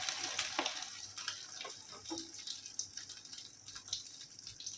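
Egg-coated chicken cutlet sizzling in hot oil over a high gas flame, a steady crackling fry with scattered pops and light spatters throughout, close and moderately loud, with no talking.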